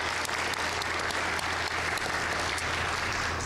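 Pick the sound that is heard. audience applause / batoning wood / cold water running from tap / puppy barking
audience applause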